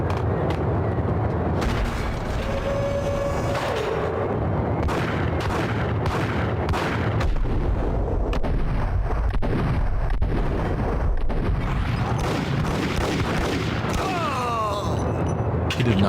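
Gunfire from the video game Max Payne 2, dense bursts of shots and booming impacts rolling continuously at high volume, with scattered metallic clatter and no clear talk.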